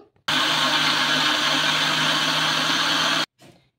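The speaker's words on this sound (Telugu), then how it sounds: "ఇలాగే మిక్సీ పట్టేసుకుందాం" A kitchen mixer grinder whirs loud and steady for about three seconds as it grinds bottle gourd into a thick batter with no water added, then stops abruptly, followed by a faint rattle.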